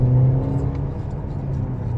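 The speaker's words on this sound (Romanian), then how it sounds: "Deocamdată vreau să vă arăt la drum și la cum trage." A 2021 Mercedes GLB car on the road, with a steady engine hum and tire rumble inside the cabin, moderately loud and continuous.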